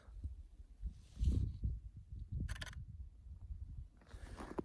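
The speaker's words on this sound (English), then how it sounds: "And that's the mechanical shutter." Canon R5 mirrorless camera firing its mechanical shutter: one quick, crisp click midway through, quiet and close against a low rumble of handling noise.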